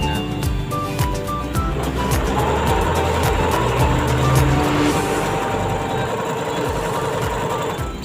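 A Jaguar household sewing machine (model SB.001) running steadily while stitching a zigzag pattern, its rapid needle clatter and motor hum continuous and close throughout.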